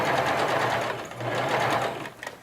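Sewing machine stitching a stuffed toy, running steadily and close up with a continuous motor whir that briefly slows near the middle and stops near the end.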